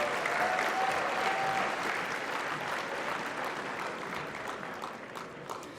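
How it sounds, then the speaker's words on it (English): Steady audience applause for graduates at a Humber College spring convocation ceremony, a broad even clapping from a large hall that slowly tapers off. "please give a round of applause for the graduates for the Sustainable Energy and Building Technology program."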